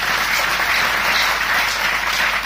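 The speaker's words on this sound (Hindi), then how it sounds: "जबरदस्त तालियां के लिए चाहूंगा" An audience bursts into dense, steady applause, many hands clapping together in a continuous loud wash with no voices over it.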